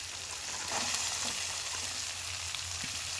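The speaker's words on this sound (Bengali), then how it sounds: "এবার আমি আলুগুলো দিয়ে দেবো, দিয়ে সব একসাথে আবার ভাজবো" Potatoes frying in fish oil in a pan for a Bengali bati chorchori, a steady close sizzle with faint stirring and no talking.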